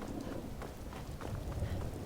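Steady rain falling in a fantasy role-playing game, a continuous soft broadband hiss with faint low rumbles underneath.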